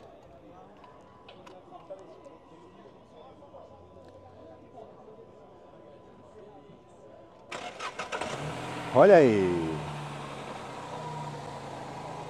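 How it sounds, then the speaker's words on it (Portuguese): Fiat Mobi 2017-2018 with a Firefly engine, heard close: after a quiet stretch with a voice speaking, the engine cranks and catches with a loud burst, then settles into a steady idle. "o amigo vai dar partida aqui no motor, para a gente escutar o carro aqui funcionando"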